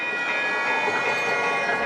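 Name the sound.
train moving on rails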